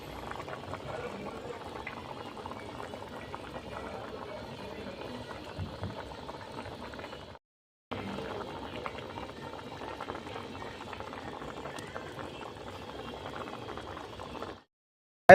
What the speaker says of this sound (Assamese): ইফালে মাংস পূৰা উতলি আছে